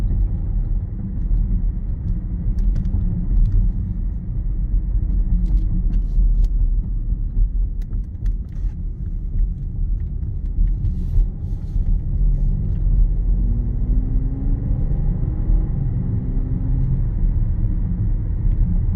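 A 2024 BMW X6 xDrive40i cruising in comfort mode, with a steady low engine and road rumble inside the cabin and a faint engine note rising near the end, without talk.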